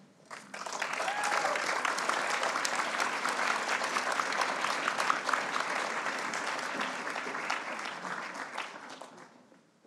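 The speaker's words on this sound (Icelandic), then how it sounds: "Og við ætlum að gefa okkur eitt gott klapp." A large audience applauds at a university graduation ceremony in Akureyri, a dense and steady roar of clapping that swells quickly and holds for nearly ten seconds before fading.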